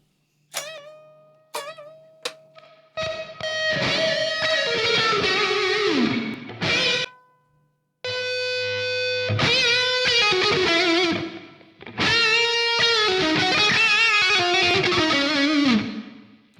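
An electric guitar plays through an amp with reverb: plucked notes and strummed chords ring out, their tails washing and decaying between phrases.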